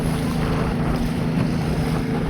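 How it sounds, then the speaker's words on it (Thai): Strong wind roars steadily across open water, buffeting the microphone in a constant, loud rush with a low rumble that may come from a boat, and no voices. "ลมแรงด้วยอยู่กลางวังนี่"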